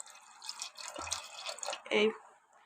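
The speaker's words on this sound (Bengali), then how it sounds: "একটু সামান্য জল দিয়ে এটিকে ডোবার মতো করে একটু সেদ্ধ করতে হবে" A little water splashes into a pot of potatoes being boiled for Bengali alur dom, a brief liquid patter and pour rising near the end beneath a speaking voice.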